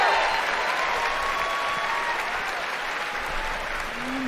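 Audience applause fills a large hall at the Bethesda E3 2019 media event after Fallout 76's human NPCs are announced, a dense, steady wash of clapping and crowd noise that holds for several seconds before thinning slightly.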